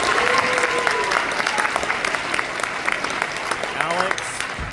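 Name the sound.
audience round of applause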